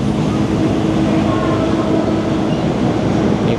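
An old train in Thailand rumbles along in a steady, loud, continuous drone of the railcar in motion, heard from inside as a passenger.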